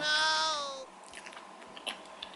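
Chewing mango sticky rice topped with crunchy beans, close up, a brief soft moist bite and chew after a short high tonal sound, then quiet small crunchy squish sounds.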